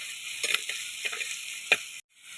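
Small onions dropped into hot coconut oil, giving a soft steady sizzle with a few scraping stirs and clicks before the sound briefly cuts out.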